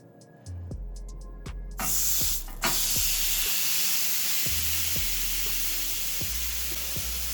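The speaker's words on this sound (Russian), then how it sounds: "Самое время теперь наш стейк отправить на сковородочку." A beef steak, brushed with olive oil, lands in a hot dry frying pan and breaks into a loud, close, continuous sizzle and hiss that holds steady over a faint background of regular low thumps.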